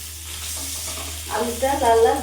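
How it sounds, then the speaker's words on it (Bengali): Boiled potatoes with salt and turmeric fry in a pan: a low, quiet sizzle over a steady hum that swells louder and busier near the end as the potatoes are stirred. "আলুটাকে একটু লাল লাল করে আমি ভেজে নেব।"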